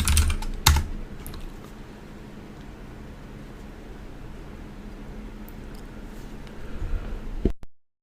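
Keystrokes on a computer keyboard entering the make command in a Linux terminal to compile an rtl8812au WiFi driver, with a few quick clustered taps near the start and end over a steady low hiss.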